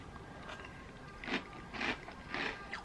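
Three distinct crunchy bites of cereal spaced about half a second apart, close and fairly loud against a quiet background.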